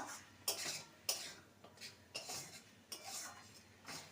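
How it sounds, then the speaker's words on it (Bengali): Spoon stirring fried spice mix into a vegetarian cauliflower stalk chorchori in a pan, giving sharp metal clinks and scrapes against the pan at irregular intervals, close and fairly quiet. "যে মশলাটাকে ভেজে রেখেছিলাম সেটা দিয়ে দেব ভালো করে মিশিয়ে নেব"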